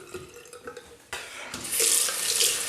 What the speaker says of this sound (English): Rinse my face.